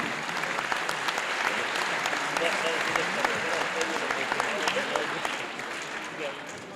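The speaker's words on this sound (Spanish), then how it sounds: "Les damos un aplauso generoso como agradecimiento por su presencia siempre importante." Steady, dense audience applause at a senator's first annual report event in Mexico, a crowd clapping continuously at moderate volume throughout with a faint voice beneath.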